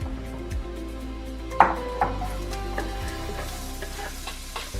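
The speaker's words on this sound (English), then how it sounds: "I have my pot here and I'm adding a little bit of vegetable oil. And we're going to cook these onions." Onions cook in vegetable oil in a soup pot for borscht, giving a low sizzle beneath spoon scrapes and a few sharp clinks against the pot.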